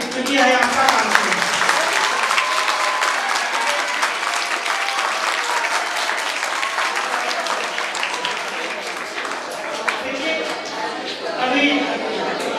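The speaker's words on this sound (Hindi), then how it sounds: "आप अपने लिए ताली बजावें" Audience applause at a school's Class 10 farewell ceremony, steady and loud clapping from a crowd throughout, with a brief swell near the end.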